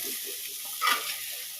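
Goat brain with turmeric stir-frying in a pan, a brief soft stir over a steady hiss of sizzling oil, close and low in volume.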